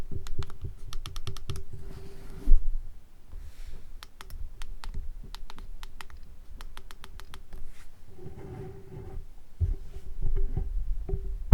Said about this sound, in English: Satisfying buttons to click.